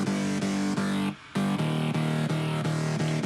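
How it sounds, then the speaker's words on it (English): A powerful, gritty synth mid bass from Logic Pro X pulses in steady rhythmic chops with a short gap partway through, a dense, buzzing sustained tone playing alone. "So, looking at the bass, we have a very powerful gritty bass going on here."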